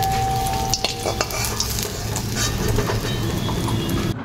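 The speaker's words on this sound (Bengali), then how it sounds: "মাছগুলো ভাজা হয়ে গেছে, আমি তুলে নিচ্ছি।" Fried Japanese puti fish are lifted from sizzling oil in a pan, with continuous crackling sizzle and a few sharp scraping clinks of the utensil, close and alone.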